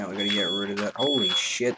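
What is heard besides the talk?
smoke or fire alarm beeping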